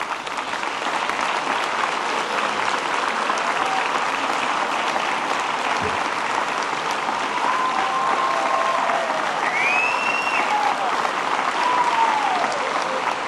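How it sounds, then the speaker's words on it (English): Sustained applause from a graduation ceremony audience fills the hall, a dense, even clapping that continues without pause, with a few faint voices and whoops mixed in. "please rise, turn backward, and applaud to those who accompanied you through this journey"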